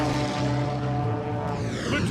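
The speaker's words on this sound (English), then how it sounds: "welcome to Airdogs, where we're flying P51 Mustangs." A P-51 Mustang propeller fighter in flight, its piston engine a loud, steady droning roar with a rich harmonic hum, heard close and continuous without any speech.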